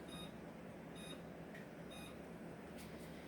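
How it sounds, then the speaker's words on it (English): A kitchen timer being set for one minute gives short, faint electronic beeps, three evenly spaced high pips over a low room hum, quiet and alone. "set my timer for a minute"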